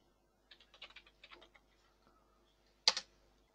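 Keys clatter on a computer keyboard while a label is typed into simulation software: a quick, close burst of soft clicks, then a pause and one louder final keystroke, with no voices.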